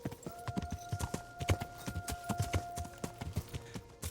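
A horse's hooves clop in a steady, even rhythm on hard ground in the medieval video game Kingdom Come Deliverance, fairly quiet and close, with a faint tonal hum underneath.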